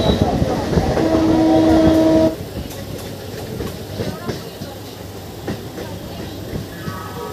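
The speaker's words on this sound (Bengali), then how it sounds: "আমাদের ট্রেন চলে আসলো এখন শেওড়াফুলি জংশন রেলওয়ে স্টেশনে" A Bally–Bandel local train runs on the rails as it comes into Sheoraphuli Junction. A loud, steady rumble with a brief tonal whine gives way to quieter running noise with faint clicks, and a horn-like tone enters near the end.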